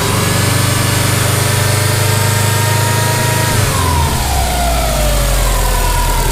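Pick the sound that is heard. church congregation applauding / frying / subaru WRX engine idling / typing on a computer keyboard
subaru WRX engine idling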